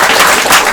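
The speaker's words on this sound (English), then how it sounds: "So, let's give Nick a big round of applause." A museum talk audience claps for the speaker at the Carpenter Museum summer series event; a brief, loud, dense burst of applause close by.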